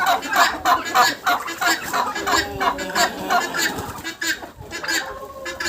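Hens and young turkeys in a farmyard cluck and chatter in a steady run of short calls, close by and moderately loud, with a voice speaking intermittently over them.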